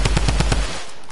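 Drum gun firing in a video game, a rapid close burst of about five loud shots in even rhythm, then cutting off into a quieter tail.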